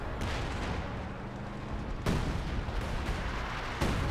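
ML-20 artillery barrage in the World War II strategy game Company of Heroes 2, heavy booming impacts over a steady roar, with sharp blasts landing at about two and four seconds.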